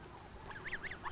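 Young snow geese on rice and grain farmland in Texas give a few quiet, high honking calls, some distance off, against a soft background hum.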